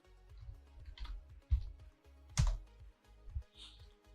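Quiet keystrokes on a computer keyboard during work in Kali Linux, a handful of soft, irregular clicks and taps with short pauses between them.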